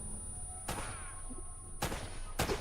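Three sharp gunshots from a firearm in the Uncharted: Drake's Fortune video game, spaced irregularly against a steady game background hum, with no talking.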